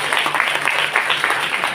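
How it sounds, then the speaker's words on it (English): A big round of applause from an audience at a youth event, dense steady clapping that fills the whole stretch at an even, fairly loud level. "So give a big round of applause to kita semua orang yang ketawa kita"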